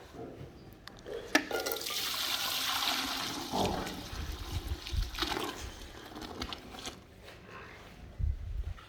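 Fresh milk poured from a bucket after milking, a steady rushing, splashing pour for several seconds that fades into trickles with faint clanks.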